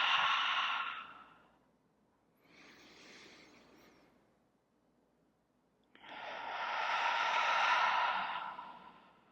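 Slow breaths during a chair yoga session: a long open-mouth exhale, then a softer breath in, then another long, full exhale through the open mouth, close and unhurried with quiet gaps between.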